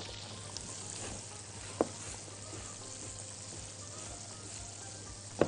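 Cream cheese is stirred into a macaroni sauce in a hot pan, a steady low sizzle running throughout with a few soft knocks of the spoon against the pan.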